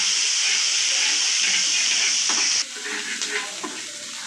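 Small onions sizzle steadily in a hot pan with faint stirring scrapes; the frying hiss drops a little partway through.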